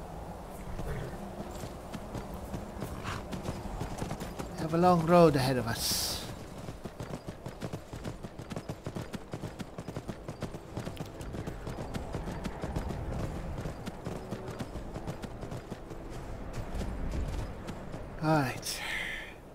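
Horses' hooves clip-clop steadily on a road in the video game Skyrim, a continuous rhythmic walking beat heard under people talking, with a couple of whinnies rising briefly above it.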